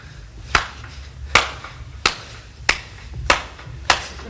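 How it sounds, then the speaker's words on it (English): Group clapping for the UCLA 8 clap cheer, six sharp, evenly spaced claps at a slow, steady beat, fairly close, with no voices. "we're going to have one of UCLA's famous yells, and it's called the 8 clap"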